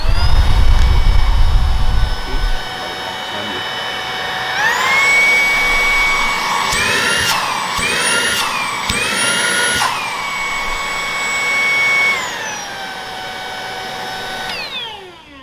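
A Tineco Dash A10 cordless stick vacuum at max power: high-pitched motor whine revs up to a steady, loud whirr, holds with a few brief dips in pitch, then winds back down as the motor shuts off.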